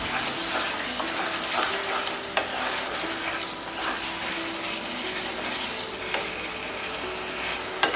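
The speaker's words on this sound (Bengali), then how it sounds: "এখন আমি আচারটাকে আরও নাড়াচাড়া করে একেবারে ভাজা ভাজা যেটাকে বলে সেই পর্যায়ে নিয়ে যাব।" A sweet hog plum pickle, cooked with melted jaggery and blended spices, sizzles in a pan while it is stirred. The frying hiss is continuous, with occasional scraping clicks from the stirring, and there is no talk.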